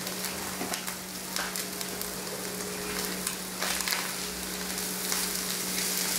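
Ground beef and oat bran toast together in a pan, giving a constant, even sizzle with scattered crackles and light stirring scrapes, with no one talking.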